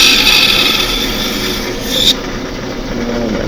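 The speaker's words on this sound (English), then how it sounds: "And then the bandsaw likes cutting straight." A bandsaw cuts a wooden spoon blank with a steady, loud mechanical whir and a bright blade whine that drops off partway through as the cut finishes.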